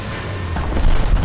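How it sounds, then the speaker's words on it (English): A tank's ammunition cooking off in the game War Thunder, a deep, rolling explosive boom that swells and rumbles heavily for about a second, loud and without talk. "that's what an ammo cook-off is like. The entire tank just gets detonated"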